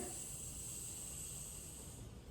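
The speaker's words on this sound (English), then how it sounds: "All those bubbles are rushing to the top as we open our bottle." A steady, soft fizzing hiss from a carbonated bottle being opened, continuous and fairly faint, with no voices.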